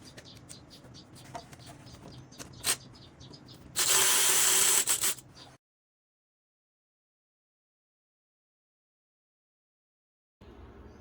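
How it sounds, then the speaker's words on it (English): A battery-operated cordless ratchet whirs in one loud, steady burst lasting under two seconds while working in a Honda engine bay, preceded by faint clicks and workshop clatter, then cut off by silence. "Should I just use the battery operated ratchet?"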